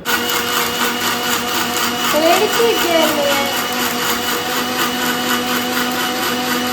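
A mixer grinder blends pomegranate in its jar with a steady, loud motor whir that runs unbroken throughout, a faint voice briefly audible over it.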